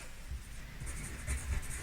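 Graphite pencil scratching across paper while shading tone, with light strokes building to firmer pressure; close, dry, rhythmic scribbling with no talk.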